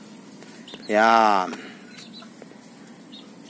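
A single loud call from a backyard chicken rises from a quiet background, while someone speaks briefly nearby.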